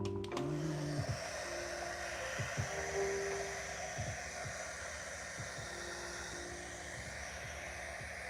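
A hair dryer blows on a watercolor painting of rust, a steady close whir with faint clicks and small knocks under it.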